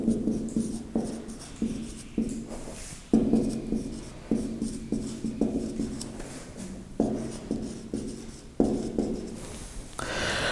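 Chalk or marker writing a formula on a classroom board, a steady run of short scratchy strokes with brief pauses between bursts, close and fairly loud, with no talking.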